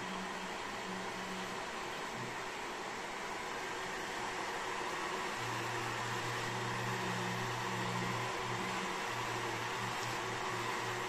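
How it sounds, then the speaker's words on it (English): A 3D printer runs while laying down infill, producing a faint, steady whirring hum with stepper-motor tones that rise and fall as the print head moves back and forth. "Printing in progress. Now it's now doing infills."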